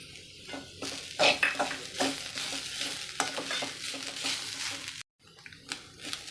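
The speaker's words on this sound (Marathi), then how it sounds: "खोबरं पण थोडं थोडं भाजत आलं आहे" Grated dry coconut and ginger-garlic paste roast in a pan for a Maharashtrian patodi aamti, giving a steady close sizzle with repeated stirring scrapes and a brief pause near the end.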